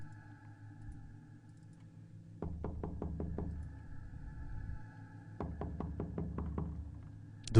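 Two bursts of rapid knocking on a bedroom door, about six sharp raps each, sound clearly against a quiet low background, used as a horror radio sound effect.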